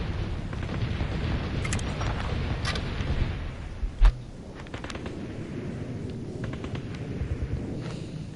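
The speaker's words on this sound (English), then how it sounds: "That's a grenade, dude." Grenade exploding in a video game, one short low boom standing out midway through a steady rumble of game noise, with faint scattered impacts around it.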